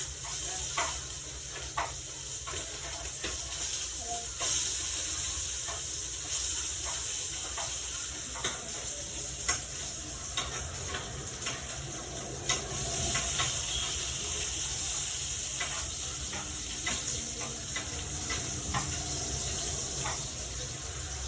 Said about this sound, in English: I'm gonna turn this bacon over.